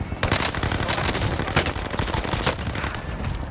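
Rapid hip-fire gunshots in Call of Duty Warzone at Fortune's Keep with a Marco 5 weapon, a dense fast burst of loud close shots cracking in quick succession.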